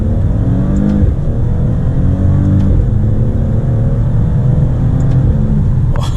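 Maserati Ghibli S Gransport 2021 V6 engine, heard from outside the car, a deep loud rumbling drone with rising and falling revs and pitch sweeps across the whole stretch.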